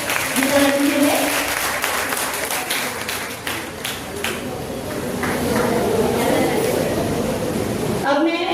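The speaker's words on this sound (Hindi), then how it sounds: "जोरदार तालियां गीता मैडम के लिए" Loud applause from an audience at a school teacher felicitation ceremony for teacher Geeta Singh, a steady, dense roll of clapping that holds for several seconds and then cuts off abruptly.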